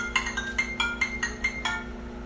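An indoor phone rings in a series of short, regular electronic trills, about seven evenly spaced bursts over a steady low hum, loud and close with no talking.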